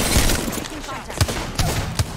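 Rapid gunfire in Apex Legends, repeated sharp shots in short bursts under excited talk, loud and dense over continuous game noise.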